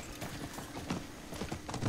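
Horse hooves clip-clopping in a steady, quick rhythm while riding in the Diablo 4 video game, close and fairly loud across the whole stretch with no talk.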